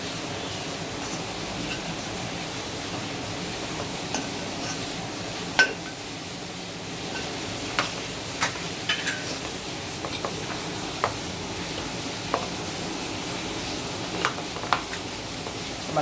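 Mashed potato and masala mixture for vada is stirred and mixed with salt, a steady low scraping and rustling with scattered sharp utensil taps against the vessel, no talk.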